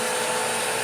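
A Bissell CleanView Swivel upright vacuum cleaner runs with a steady, loud whirring motor drone and broadband airflow noise, held constant and close throughout.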